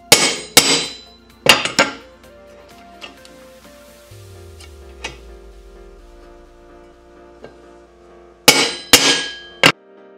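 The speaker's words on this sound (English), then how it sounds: "Set this up, and then you just whack it with the hammer." Sharp metallic hammer strikes on a dimpling tool while building an aircraft practice kit: two quick pairs at the start, a few lighter taps in the middle, then three loud blows near the end, with ringing decay.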